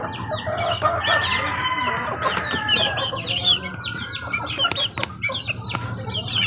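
Hens cluck steadily while a rooster crows loudly, close by in a Filipino backyard flock, with busy overlapping calls and rustling throughout.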